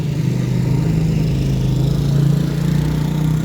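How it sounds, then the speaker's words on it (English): Motorbike engines run steadily on a street in Kagarama, Rwanda, a loud continuous drone with rising and falling pitch as the bikes pass close by. "the motorbikes, the noise, I don't have a microphone"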